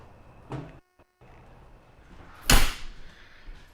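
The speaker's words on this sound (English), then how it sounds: "Let me close this door here." A door is pushed shut indoors with one sharp, loud closing thump, preceded by a softer knock and brief handling sounds, with no talking over it.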